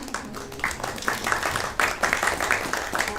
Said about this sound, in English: Please a round of applause for their beautiful kirtan